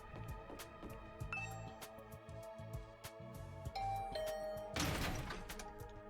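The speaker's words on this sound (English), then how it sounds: "Ring the doorbell, wait for a moment." A doorbell in The Hundred Line: Last Defense Academy video game sounds a ding-dong chime over game music, followed by a brief crash-like burst near the end.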